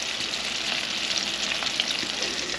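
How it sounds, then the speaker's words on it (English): Shrimp fry in hot oil for a catch-and-cook meal, giving a steady, close, dense sizzle with crackling pops that runs unbroken throughout. "And then just let them fry."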